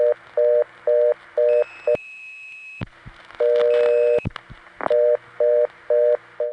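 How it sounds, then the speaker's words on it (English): A 1976 PBX tie-line on a life insurance company's phone network plays a fast, evenly pulsed reorder tone, broken by a long steady tone, clicks and a brief silence before the rapid beeping resumes, loud and close with no voices. "when it went into the reorder tone"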